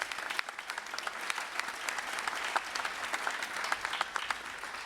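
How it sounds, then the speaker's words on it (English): Continuous applause from the audience at a Tri-Cities Chamber of Commerce all-candidates debate, a dense spread of many hands clapping at even strength throughout. "So a big round of applause for Tri-Cities Community TV"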